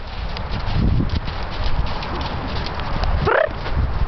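A horse canters in an arena, its hoofbeats thudding in a loose rolling rhythm under wind rumble, with a brief rising vocal sound near the end.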